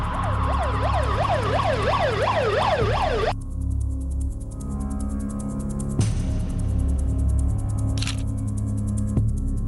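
A loud ambulance siren wails in rapid up-and-down cycles for about three seconds in a Bengali crime drama scene, then cuts off abruptly, leaving a steady low hum with a couple of sharp clicks.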